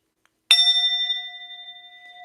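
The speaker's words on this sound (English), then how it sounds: "Let me get the bell for the cosmic court." A single bright bell strike rings out after a brief silence, its clear metallic tone sustaining and slowly fading with a faint wobble, heard alone.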